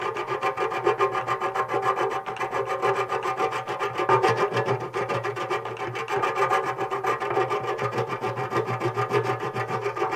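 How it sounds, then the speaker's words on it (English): Sandpaper scraping back and forth against a hard motorcycle part, a loud, continuous rasping rub with a steady rhythm, close up and alone. "I don't think sandpaper is strong enough to cut through this, dude."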